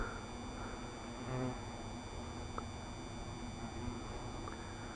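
Hornets buzz faintly at an apiary. A thin, steady drone hangs over a low background hum, with a few brief louder passes.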